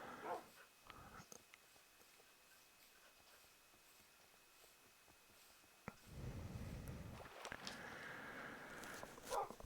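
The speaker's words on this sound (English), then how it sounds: "Oh, now we got barking dogs to deal with." Dogs in the video game Minecraft bark and whimper in short, quiet bursts scattered across a faint background, with a louder stretch toward the end.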